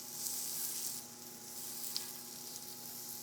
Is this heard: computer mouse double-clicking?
no